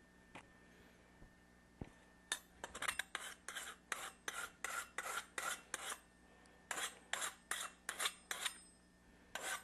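A regular hand file rasps chrome plating off a brass pipe in a close, rhythmic series of scraping strokes, about a dozen in quick succession after a few isolated taps.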